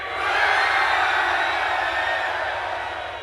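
A concert crowd at a metal show roars as loud as it can on cue, a dense wall of cheering and shouting that swells quickly, holds for a few seconds, then tapers slightly.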